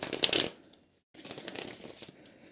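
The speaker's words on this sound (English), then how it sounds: "See if you can shuffle your cards now without anything falling out." Tarot cards are shuffled by hand close up, with a short papery riffle and flutter, a brief pause, then softer continued shuffling and card slides.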